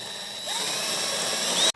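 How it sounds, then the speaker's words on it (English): Power drill boring out a rivet on a Yamaha SuperJet stand-up jet ski: the motor whines up and runs steadily at close range for over a second, then cuts off abruptly. "I'm gonna go ahead and drill this rivet out too because it's gonna get in the way."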